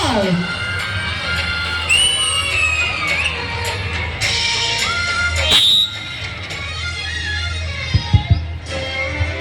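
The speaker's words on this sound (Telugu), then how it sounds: "పిల్లలందరూ గట్టిగా చప్పట్లు షార్గా." Schoolchildren at a school event cheer, shout and whoop loudly as a crowd, with a brief burst of clapping near the end and some adult speech mixed in.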